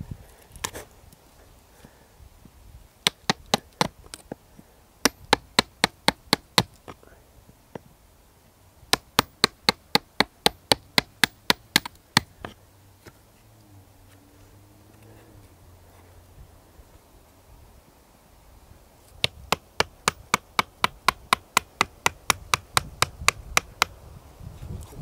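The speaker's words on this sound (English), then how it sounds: "I'm still going with this large chisel" A large chisel carving wood for a bonsai, heard as quick, evenly spaced tapping strikes in several bursts of a dozen or so hits, separated by quiet pauses with faint handling noise.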